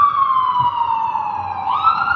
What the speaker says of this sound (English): Be hearing sirens all day